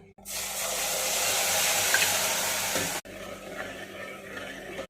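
Hot water pours steadily into a pot of spiced lentils with a rushing splash for a few seconds, then stops abruptly, leaving a quieter background.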